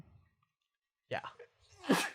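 A short sneeze bursts out close by, preceded by a quick breathy sound, then a fuller forceful sneeze at the end.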